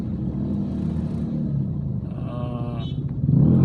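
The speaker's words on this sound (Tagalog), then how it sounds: "Tatraffic kami dito dahil sa mga jeep na to" Jeepneys and other traffic idling and creeping near Quiapo Church in Manila, a steady low engine rumble with a horn-like tone rising briefly, growing slightly louder at the end.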